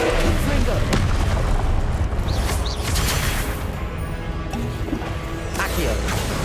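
Booming fire-spell blasts from the Hogwarts Legacy video game, dense and loud, with a spellcaster shouting incantations over the continuous rumble of combat effects.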